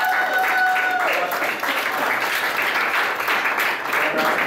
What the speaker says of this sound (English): give a round of applause though